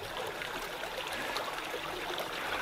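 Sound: forest stream trickling down a slope

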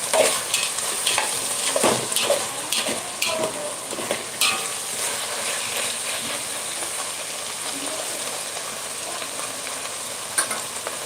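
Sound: spring onion greens sautéing and stirred in oil for bharit

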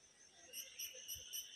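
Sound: insects calling in the forest

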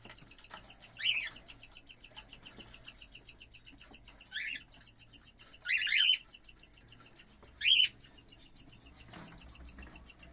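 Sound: cockatiels chirping in a breeding room

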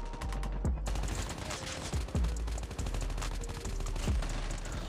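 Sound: gunshots firing a headshot in Call of Duty Mobile video game

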